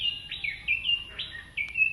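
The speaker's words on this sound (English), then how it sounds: "I heard the birds." Birds chirp in a chili-growing corner of a homestead garden, several short, bright tweets repeating at a moderate distance over low background rumble.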